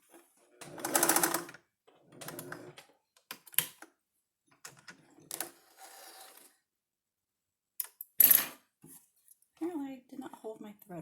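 A sewing machine stay stitching the outer piece of a vest, running in several short bursts of varied length separated by pauses, fairly close and moderately loud, with some handling noise between runs.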